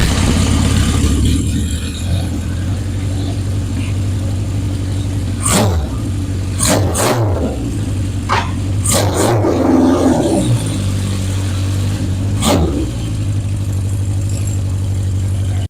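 A restored 1977 Honda CB750 chopper motorcycle runs on a test ride, its engine a steady, loud mid-range drone with occasional sharp revs and clicks, close by and without speech.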